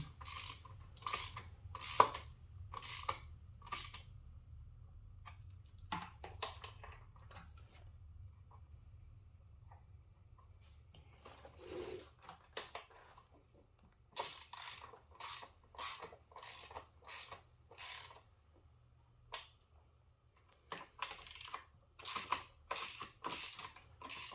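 A hand ratchet tightens bolts on a KTM 390 Duke radiator cowling, giving fast, close clicking strokes in repeated bursts, with quieter handling and rustling in the pauses and no talk.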